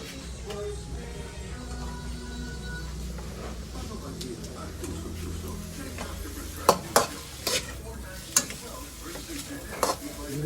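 Tuna and onions sizzle in a pan while being stirred, a soft continuous fry with scattered scrapes and sharp clinks of a utensil against the pan, as people talk quietly nearby.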